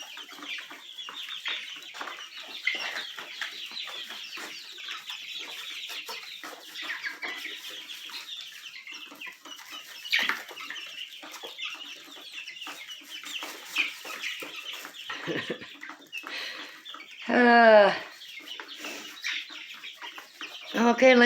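Chicks in a brooder peep continuously and chirp in busy overlapping calls, with occasional louder clucking bursts near the end and faint background noise.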